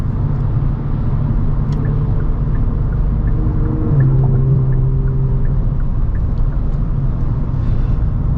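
Kia Stinger GT2 fitted with a Borla active valve exhaust, a loud, steady low engine drone with a rising rumble midway, heard from inside while cruising.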